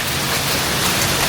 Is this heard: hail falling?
yes